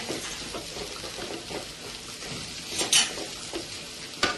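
Amaranth greens fry in a pan with flour coating, giving a steady, close sizzle with soft stirring scrapes and a brief louder crackle near the end.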